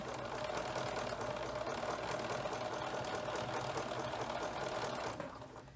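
Sewing machine back stitching a seam on knit fabric for baby leggings and tops, a steady close mechanical whir running evenly throughout and stopping near the end.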